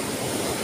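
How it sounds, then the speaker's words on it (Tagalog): Big ocean waves rolling in: a dense, steady roar of surf that fills the whole brief moment, loud and close, with no voices. "Lalaki po ng alon"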